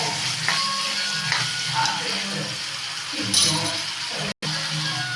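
Onions fry over a low flame in a pan, giving a steady broadband sizzle with occasional light clinks of a utensil against the pan throughout.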